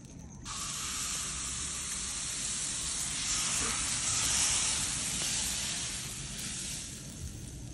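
Chilla batter for a village-style saag and rice-flour roti hits a hot tawa griddle and sizzles in a steady, bright hiss that starts abruptly, then holds and swells gently, close by and alone.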